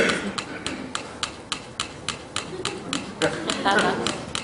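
Two small metronomes set to their fastest tempo tick on a table, giving rapid, steady, close-up clicks that begin to drift slightly out of step toward the end.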